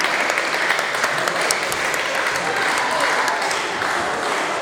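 A wrestling show crowd applauds steadily, a dense, loud wash of clapping sustained throughout, with no clear talk on top.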